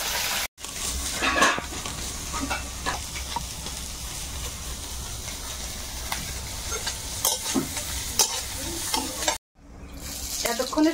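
Small river fish from the Sundarban, freshly caught, sizzle steadily in hot oil in a wok. Scraping and stirring clatter runs through the sizzle, with two brief dropouts.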